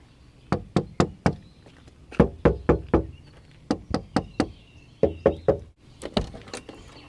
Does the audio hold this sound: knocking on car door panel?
yes